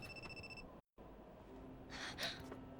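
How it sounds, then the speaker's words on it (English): In the Armitage III anime, a telephone rings faintly at the start, then breaks off with a brief silent gap, followed by a breathy gasp-like sound over quiet background. "and then his phone rings, and he gets pissed at it"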